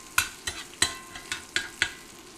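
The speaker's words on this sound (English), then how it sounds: "the sizzling is not making the sizzling sound that I want to hear" Food sizzles quietly in olive oil in a pan on an induction burner while a utensil stirs and scrapes in six distinct, evenly spaced strokes.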